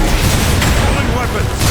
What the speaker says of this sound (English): I'm getting shot to pieces here!